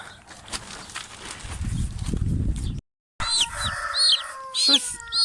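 Chickens, including three chicks, cluck and squawk nearby after a stretch of rustling handling noise, with a brief silent gap midway and sharp bird calls toward the end.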